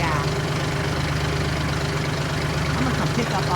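A tractor engine idles steadily on a farm during a winter storm, with a continuous low rumbling drone that holds even throughout.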